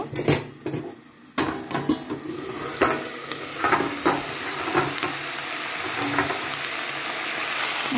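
Mixed vegetables for a five-vegetable curry are stirred in a hot pan on a gas flame, with scraping spoon strokes and clinks over a rising, continuous sizzle, close and loud.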